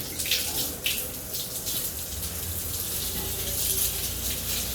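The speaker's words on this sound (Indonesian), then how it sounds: "kita siram dulu sepedanya ya" A steady hiss of water sprays onto a bicycle to wash it. The gush runs continuously and fairly close, with a few brief splashy bursts near the start.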